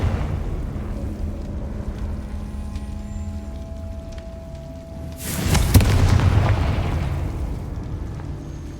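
A Confringo explosive spell blast in a hard-difficulty Ravenclaw playthrough: a single loud, booming burst erupts after a quieter stretch of ambient rumble, then rolls off into a lingering crackling tail.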